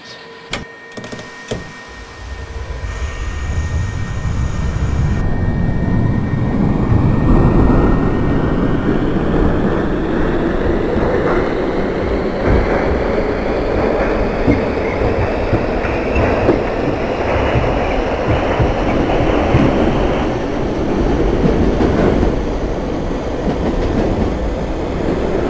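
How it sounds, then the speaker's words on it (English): A New York City subway Q Express train in the OpenBVE simulator departs and runs steadily, its motor whine rising after a few door and brake clicks, with a continuous loud rumble of wheels on rail and no voices. "This is a New Jersey-bound Q Express train."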